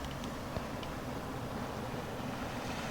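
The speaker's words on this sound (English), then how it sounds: "Just to hear the water is great." Seaside water washes steadily onto the shore at Bridport, a continuous soft rushing that sits faint and distant, mixed with some wind noise.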